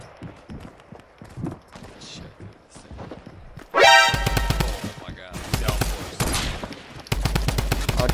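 Semi-automatic sniper rifle fired in a shooter video game, a series of sharp, loud shots in a steady rhythm with brief pauses, coming after earlier quiet talk and game noise.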